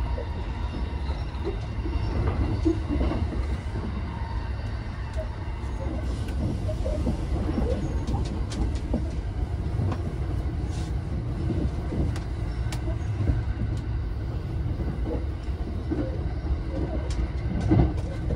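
A Thunderbird limited express train races along the main line past Takatsuki, a continuous rumbling rail roar with clattering and hiss heard from inside, steady and moderately loud throughout.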